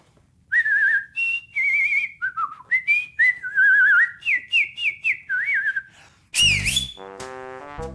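A man whistles a lively, warbling tune close by in a run of quick pitch-sliding phrases, alone in a quiet room, before a brief burst of other sound near the end.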